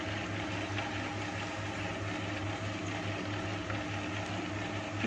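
Electric mixer grinder churning soaked rice into smooth idli-style batter, a continuous even motor whir with a steady low hum throughout, close and unbroken, no voices.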